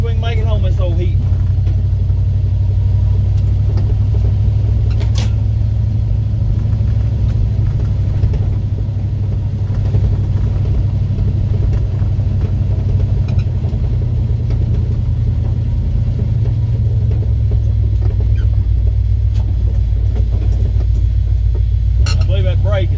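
Old 1981 Ford F100 pickup with a 351 Windsor V8, long neglected and leaking, rumbles steadily while driving, a loud low drone heard from inside the cab with someone talking over it.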